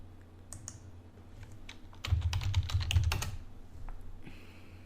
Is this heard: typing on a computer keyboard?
yes